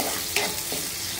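Chopped onions and green chillies fry in a pan, giving a short, steady sizzle with a light stirring scrape partway through, heard close and alone.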